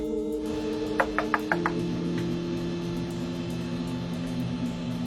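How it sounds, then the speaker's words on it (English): Knocking on a locked cockpit door captured on an aircraft cockpit voice recorder, a quick cluster of about five sharp raps over steady cabin hum and tonal drone, without speech. "All of a sudden you hear knocking on the door."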